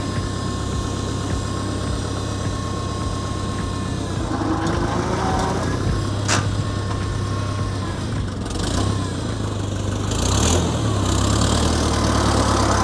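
A corn planting machine's engine runs steadily at close range, a low idling drone that holds throughout with a brief rise in revs partway through.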